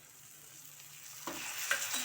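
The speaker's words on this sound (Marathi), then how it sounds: "आता आपले सर्व मिश्रण आहे ते चांगले परतून झालेले आहे त्याच्यात शेंगा टाकूया" Cluster beans sauté in a spice and peanut mixture in a pan, giving a soft, steady sizzle with a few light stirring scrapes near the end, quiet and close.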